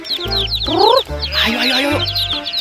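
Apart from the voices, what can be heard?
rainbow-dyed chicken clucking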